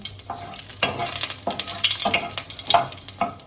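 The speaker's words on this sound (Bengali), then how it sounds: "এবার আমি এই যে দুটো তিনটে শুকনো লঙ্কা ফোড়ন দিয়ে দিলাম" Two or three dried red chillies crackle and sizzle in hot oil in a pan. The bursts are close and moderately loud, rising and falling with a few stirring scrapes.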